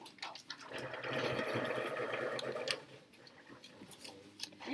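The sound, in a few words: pencil sharpener sharpening a pencil in a classroom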